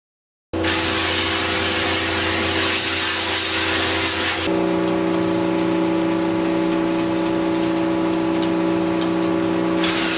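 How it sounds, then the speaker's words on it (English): Red Thunder acid degreaser sprayed onto car tires and whitewalls at a car wash: a loud, continuous hiss of spray that runs steadily for about ten seconds with no talking. "First thing we do, spray Red Thunder on it."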